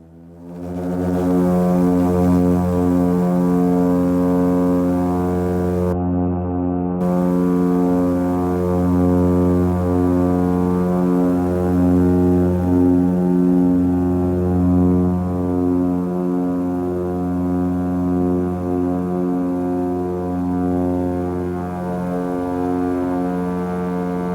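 A small Emetebe Airlines propeller plane takes off on a flight from Isabela to San Cristobal, its engines rising into a loud, steady, strongly tonal drone that dominates the entire stretch.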